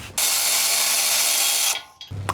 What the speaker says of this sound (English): So now with that body panel removed, I can remove this 10mm bolt right here.